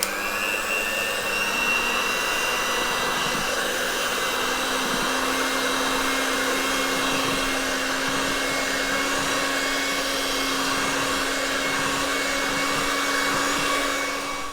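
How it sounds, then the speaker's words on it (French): Electric hand mixer beating brioche dough, a steady continuous motor whine that holds at an even, fairly loud level throughout with no talking. "à l'aide de mon batteur, je vais donc mélanger ma pâte."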